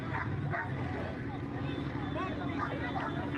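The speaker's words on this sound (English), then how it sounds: "Who brought a dog, dude?" Dog barking at a crowded street protest in Los Angeles, sharp yips popping out over a steady roar of crowd noise and nearby chatter, with voices talking throughout.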